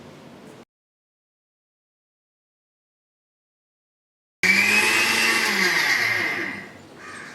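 A kitchen mixer grinder runs loud and close, grinding cashews and dry fruits into powder. It starts after a long silence, holds a steady high whir for about three seconds, then winds down.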